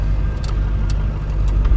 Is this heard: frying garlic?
no